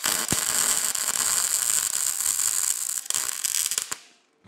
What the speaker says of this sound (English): I'm gonna start by just tacking the bottom of these so it doesn't move on me.